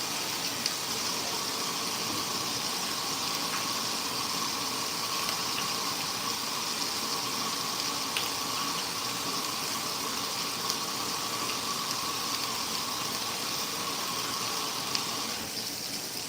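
Tap water running steadily into a kitchen sink during a cooking session, a continuous, fairly loud rushing stream with no pauses throughout.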